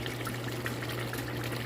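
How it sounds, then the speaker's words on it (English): Guinean okra stew fries in oil in a pot, a steady, quiet sizzle and crackle with a low constant hum underneath. "So it's frying now."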